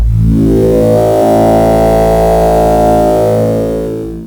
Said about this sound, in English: Both 1 and 2, you can see here, are using the Mega FM sine wave